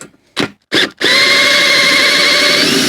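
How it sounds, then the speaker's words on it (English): A cordless power drill fitted with a hex bit gives two short bursts, then runs steadily and loudly with a high whine as it backs an Allen bolt out of a treadmill's main axle. "I'm going to try and use a hex bolt, a hex bit to get this Allen key out"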